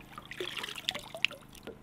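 Water trickling and dribbling softly while rinsing at a lakeside cabin, faint and close, with small splashes and drips.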